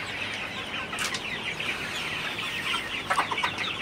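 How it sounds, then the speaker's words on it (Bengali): Chickens crowd around a water container in a poultry house during hot weather, giving soft, scattered clucks against a constant low background hum, with a few sharper calls toward the end. "শুধু পানির পাত্রের কাছে মুরগিগুলা।"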